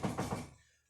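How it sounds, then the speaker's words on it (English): Three quick knocks on a patient's room door in a hospital setting, close and fairly soft, then a short fade into quiet. "Alright, we're going to go knock"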